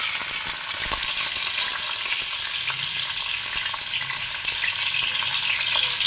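Dried red chilies and urad dal frying in hot oil in a kadhai, a loud continuous sizzling hiss with a few faint stirring taps underneath.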